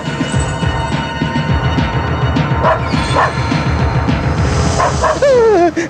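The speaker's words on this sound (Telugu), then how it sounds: "అరే చెంచా, కుక్క అరుస్తుందట్రా." A dog barks and yips at night in a film scene, with repeated close barks over a busy background. It ends with a drawn-out, wavering howl-like whine.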